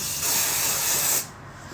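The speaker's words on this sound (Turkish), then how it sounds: "Saçımı topladığımda spreylemeyi seviyorum." A can of hair spray hisses in one steady, close, loud burst of about a second onto gathered-up hair, then cuts off into a quieter room.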